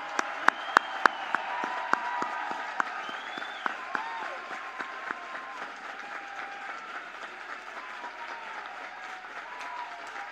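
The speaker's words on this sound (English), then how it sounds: "Please congratulate the graduates with a well-deserved round of applause." A crowd applauds steadily at a college commencement, a dense wash of clapping with a few sharper claps standing out near the start, continuing evenly throughout.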